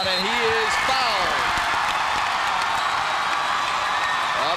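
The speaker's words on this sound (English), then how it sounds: "the South Christian crowd is starting to get into it a little bit more now" A basketball crowd cheers and roars for South Christian during a 2002 Class B high school final game against Avondale, a steady loud wash of voices under a play-by-play announcer's talk.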